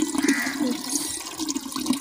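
Tap water, bore-well supply, running into a household water filter whose housing is coated in algae; a steady, fairly loud rushing flow continues without break and with no voices.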